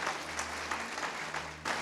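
Church congregation applauds during a Spanish-language service, clapping carried at a moderate distance in a reverberant hall over a low steady hum, with a few brief louder swells in the clapping.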